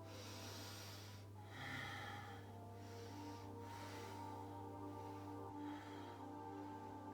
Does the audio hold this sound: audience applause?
no